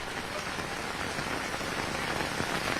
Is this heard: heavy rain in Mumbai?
yes